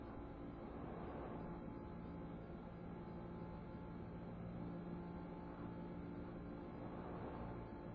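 Engine drone of a car driving in the 1994 3DO version of Need for Speed, a steady, dense roar that holds at an even level for the whole stretch with no talk over it.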